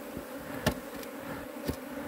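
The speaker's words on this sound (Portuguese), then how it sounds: "Eu vou tirar essas abelhas aqui agora" A honeybee swarm hums in a steady, faint insect drone near a hive box, with a few louder buzzing passes as individual bees fly close by and no voices present.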